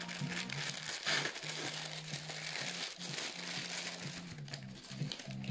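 A plastic blind bag of crystal ponies is crinkled and torn open close up, giving a steady, dense rustle and crackle for several seconds with no talking.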